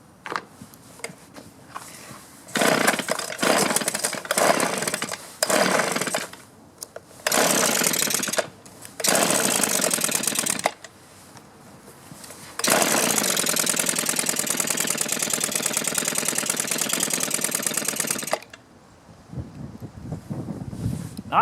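A small two-stroke trimmer engine being started: short pulls, then bursts of loud buzzing running that cut out, before a long sustained run of about six seconds and a quieter tail.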